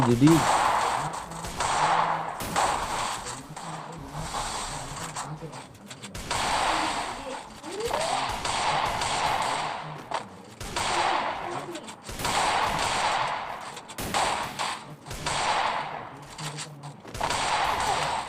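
Gunfire in the mobile battle royale game Garena Free Fire MAX, bursts of rapid shots and single cracks coming in clusters, with a player talking over the action.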